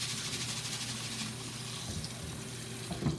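Sushi rice being rinsed in a bowl of water, a soft continuous swishing and sloshing with faint clicks, close and quiet, with no talk.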